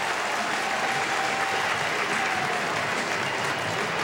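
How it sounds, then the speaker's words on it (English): A home crowd at a CFL football game roars and applauds steadily as a dense, continuous wash of cheering, loud and sustained throughout with no clear talk on top. "The crowd is truly into it."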